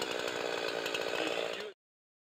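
A chainsaw runs at steady high revs during tree felling in faller training, droning loud and close before cutting off abruptly into silence.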